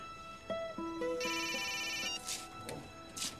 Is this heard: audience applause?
no